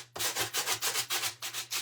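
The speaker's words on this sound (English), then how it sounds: "That's just from sanding the foam board." Rhythmic back-and-forth sanding strokes on foam board, about seven close scratchy rasps in quick succession.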